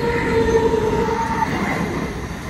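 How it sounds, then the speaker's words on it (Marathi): A Dombivli local train passes on a multi-track line, a loud, close rumble of wheels on rails with a sustained high metallic squeal of wheels over the tracks. "आणि आता अजून एक ट्रेन समोर आली माझ्या"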